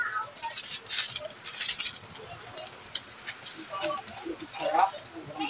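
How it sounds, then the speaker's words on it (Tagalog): Rain patters steadily on a roof or surface outdoors during cooking, a dense, fairly faint crackling hiss with scattered sharper drops and no talking. "umuulan na naman!"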